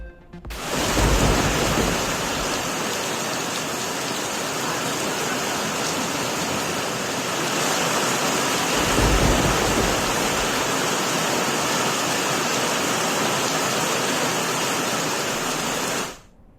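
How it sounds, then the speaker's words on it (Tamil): Heavy downpour during a thunderstorm with strong winds in Chennai, a loud unbroken roar of rain and gusts that swells around the start and again mid-way, with no talking. "சென்னை மற்றும் புறநகரில் சூறை காற்று இடியுடன் கொட்டி தீர்த்த மழை"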